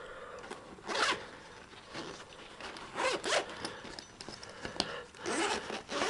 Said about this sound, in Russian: Прям легкие замочки.